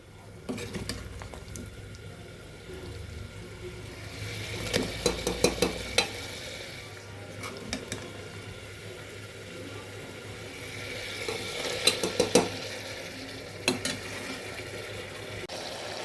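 Braised mutton is stirred in a pan and ladled into a pressure cooker, with a low background sizzle under clusters of metallic scrapes and clinks from the spoon against the vessels.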